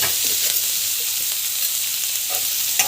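Potatoes and onions sauté in hot oil with asafoetida and rock salt, giving a steady, bright sizzling hiss with occasional soft stirring scrapes throughout.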